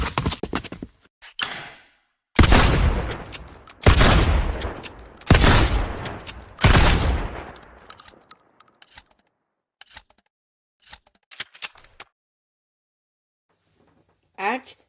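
Four loud, booming blasts from the Chapter 4 Season 1 shotgun in Fortnite, evenly spaced with ringing decays, then a run of quieter mechanical clicks and clacks trailing off into silence.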